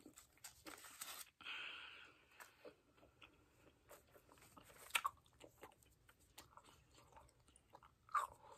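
Close-up chewing of Hubba Bubba bubble gum in an ASMR setting: wet, sticky mouth sounds and soft bites with occasional sharper clicks, quiet and irregular, heard alone.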